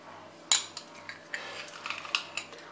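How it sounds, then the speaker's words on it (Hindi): A spoon breaking up frozen vanilla ice cream in a bowl: sharp scraping clinks and crunches, one strong hit followed by several lighter irregular scrapes and taps, close and fairly quiet. "आइसक्रीम को अब हम चम्मच की सहायता से ऐसे तोड़ लेंगे और इसे हम किसी बड़े बर्तन में डाल देंगे।"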